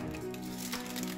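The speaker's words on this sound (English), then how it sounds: "peel this wrapper." Plastic wrapper being peeled off a Wipro smart extension, a close, continuous crinkling and crackling rustle with small sharp crackles throughout.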